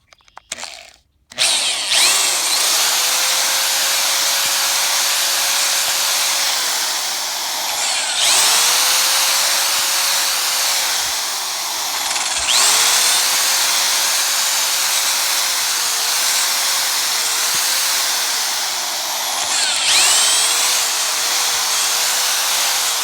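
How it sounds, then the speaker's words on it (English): A power drill bores a series of holes into a wood post for a new mailbox, several long sustained whining runs broken by short pauses as the bit changes position, loud and close with no talk. "Drill some holes now."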